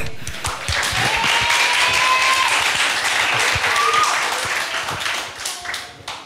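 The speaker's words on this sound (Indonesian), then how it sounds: "Yuk kita kasih tepuk tangan yuk." A youth congregation at a church service breaks into steady, dense applause that holds for several seconds before tapering off, with a few voices faintly audible beneath the clapping.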